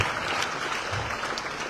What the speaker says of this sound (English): So let's give them a big hand of applause.